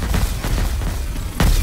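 Heavy booming explosions from the arcade shooter Matterfall, a few loud bursts in quick succession with a big blast near the end.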